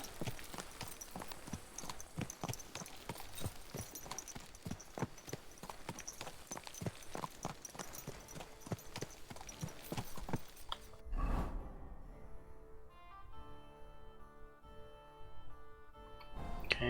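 Horse hooves clip-clop steadily at a walking pace in the video game Kingdom Come: Deliverance II, a close rhythmic plodding that stops partway, giving way to quieter ambient tones.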